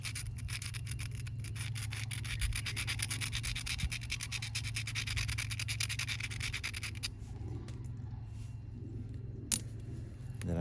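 Cortex ground off a flint-knapped spearpoint made of agatized pinhead coral, a close, continuous fast rasping scrape that stops after about seven seconds, followed by quieter handling sounds.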